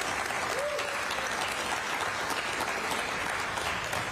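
Audience applause at a televised Seattle City Council District 3 debate, a steady, dense wash of clapping that holds at an even level for about four seconds with no voices rising above it.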